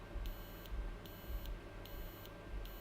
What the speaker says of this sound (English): I don't think the buzzer will like 100 Hertz.